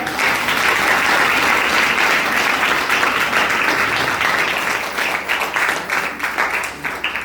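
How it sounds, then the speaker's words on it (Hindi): Sustained applause from a large audience at a public address or rally, dense and steady throughout, easing slightly toward the end with no voices over it. "ताली बजाइए"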